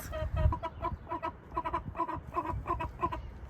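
Several chickens cluck in short, repeated bursts close by, a busy irregular chatter of hen calls with soft rustling underneath.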